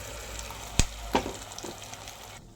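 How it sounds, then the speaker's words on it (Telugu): Gongura leaf paste fries in a pan with mustard seeds, cumin, dried chillies and curry leaves, a close, moderate sizzle punctuated by a couple of sharp clatters before it fades near the end. "ఇప్పుడు మిక్సీ పట్టుకున్నటువంటి గోంగూర పేస్ట్ని కూడా యాడ్ చేసుకోండి"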